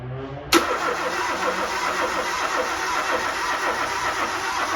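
A car engine starting for the first time after oil pressure is built up catches with a sharp burst and then runs steadily, a continuous mid-pitched rumble that stays loud and even with no talking.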